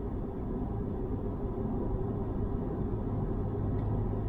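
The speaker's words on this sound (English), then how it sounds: "Got a naturally aspirated V8 behind you" A low, steady naturally aspirated V8 engine rumble heard from inside a moving C8 Corvette, droning evenly without voices.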